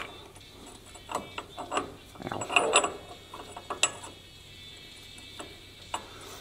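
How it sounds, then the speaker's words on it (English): A part slides onto a Jeep Gladiator axle shaft with scattered metallic clicks and ratcheting clatter, a busier burst of rattling in the middle, close by and without talk. "I'm just going to slide this on to the axle shaft in here."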